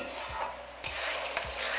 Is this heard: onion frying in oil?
yes